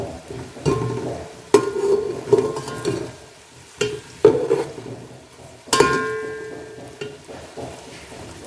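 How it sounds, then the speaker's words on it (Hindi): Onions frying on high heat in oil for matar pulao, a steady close sizzle broken by several sharp stirring scrapes of a spatula against the pan, no talking. "अब हम इसे तेज़ आंच पे ब्राउन करेंगे"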